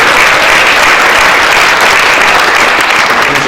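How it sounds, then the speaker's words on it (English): Loud, dense audience applause for a mayoral candidate at a campaign event, a continuous wash of clapping throughout with no break. "Let's give Chuck another round of applause."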